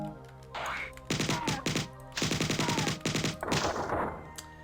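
Automatic weapon fire from the first-person shooter game Marathon, rapid bursts of repeated shots in three main volleys separated by short pauses, loud and close.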